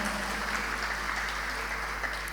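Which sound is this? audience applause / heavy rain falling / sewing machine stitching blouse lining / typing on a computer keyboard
audience applause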